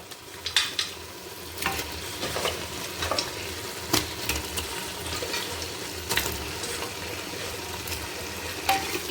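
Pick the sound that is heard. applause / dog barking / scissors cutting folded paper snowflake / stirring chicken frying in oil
stirring chicken frying in oil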